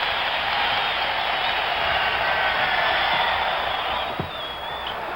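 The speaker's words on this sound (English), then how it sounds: "listen to the applause for the Rookie of the Year as Bridges leaves" Steady applause from a basketball arena crowd at a 1975 Bulls vs Warriors game as a Rookie of the Year player leaves the court, a broad continuous roar of clapping across the whole stretch.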